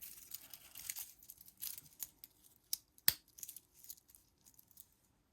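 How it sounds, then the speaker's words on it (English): Metal scissors clink and rattle softly as they are handled and set down during a watch unboxing, with light rustling and one sharp tap near the middle. "Put these scissors away."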